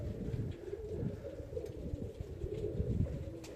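Pigeons cooing together in a crowded loft on a spring day, a dense, continuous low murmur of many overlapping coos close by, busy and steady throughout.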